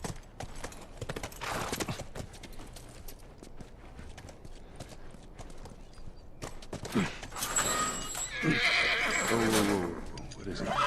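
Horse in The Last of Us neighs and whinnies loudly near the end, with clip-clop hooves and soft creaks beneath, after quieter ambient stretches; no speech heard.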